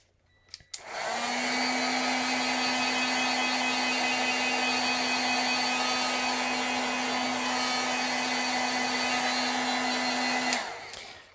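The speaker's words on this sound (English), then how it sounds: "I'm kind of heat setting that a little bit because I'm just making a video here" A heat tool blows steadily for about ten seconds to set rubber stamp ink, a close, even whirring hum with a sharp click on and off at each end.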